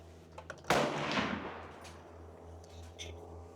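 A single muffled gunshot from a suppressed rifle cracks close by with a deep thud, then a rumbling echo fades away over a couple of seconds against quiet background noise.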